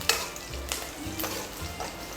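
Panch phoron seeds dropped into hot oil over fried onions while cooking dal with drumstick leaves, giving a soft, close crackling sizzle with a few sharp pops and brief stirring scrapes.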